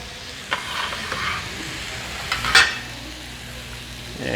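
Food sizzling steadily in a preheated 10-inch cast iron skillet for tacos, a continuous close frying hiss punctuated by a few scraping stirs and a louder clatter midway.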